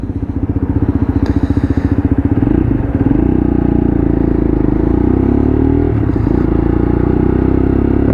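A Lexmoto LXR 125cc motorcycle on a test ride: a loud, close single-cylinder engine thumps rhythmically, then revs up and holds a steady droning pitch with gear changes and rising and falling engine note, no talk.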